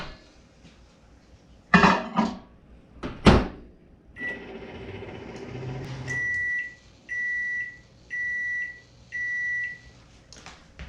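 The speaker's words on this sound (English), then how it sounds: "What we're going to do is put this in the microwave for 1 minute" A microwave oven heats cheese curds for homemade mozzarella: a couple of sharp clunks, then a steady low hum while it runs, ending in four evenly spaced loud beeps. No one speaks.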